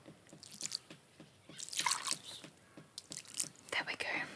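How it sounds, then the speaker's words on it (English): Water drips from a watering pot inside a greenhouse: soft, close, irregular drips and small splashes, with a few louder bursts of wet trickling and faint whisper-like breaths in between. "The other one's dripping"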